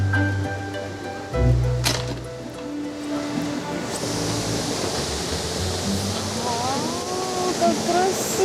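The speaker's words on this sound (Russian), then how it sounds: "Природа, лес, река, которая звучит так мощно." Broadband rushing water of a powerful forest river roars steadily in the outdoors, with a thump and faint tonal sounds and talk-like warbles over it.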